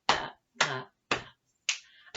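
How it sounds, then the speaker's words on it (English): Four crisp, separate percussive hits spaced about half a second apart, close and dry, from a clapping rhythm game of pats, claps and snaps; the sharp attacks suggest snaps, though pats or claps cannot be ruled out. "So we'll add the snap in between the double pats"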